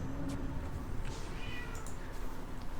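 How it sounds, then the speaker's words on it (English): A domestic cat yowls indoors, drawn-out wavering cries rising over a constant background of game commentary and noise, moderately loud and close. "one of my cats is yowling"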